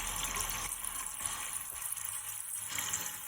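A toilet tank refilling with water after a gasket repair, a steady rushing hiss of inflowing water that keeps going throughout, close by, with no talking.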